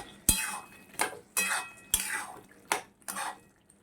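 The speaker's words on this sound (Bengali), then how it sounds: "এই যে সিদ্ধ করে রেখেছিলাম মটন, তা দিয়ে দিচ্ছি কষানোর মধ্যে।" Boiled goat mutton added to frying masala and stirred in a pan: six or so sharp clinks and scrapes of a utensil against the pan, each fading quickly, close and fairly quiet, with no talking.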